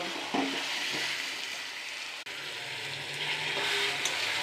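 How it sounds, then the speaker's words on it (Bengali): Spice paste with turmeric frying in a pan for a fish kalia, a steady close sizzle with a brief scrape or stir, no voices. "মশলাটা দিয়ে ভালো মতো কষাবো এক এক করে হলুদ দিয়ে দিব"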